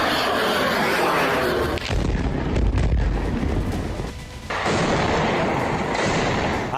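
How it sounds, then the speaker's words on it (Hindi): Missile strike explosions at the US Navy 5th Fleet headquarters base in Bahrain, a loud sustained roar of blasts and rumbling with a brief dip midway before the din resumes, wind-buffeted and with no voices. "सटीक हमले से यहां जबरदस्त धमाके हुए और पूरा इलाका थर्रा उठा।"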